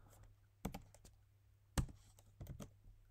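A few scattered clicks of a computer keyboard, close but quiet, with long pauses between small clusters of keystrokes.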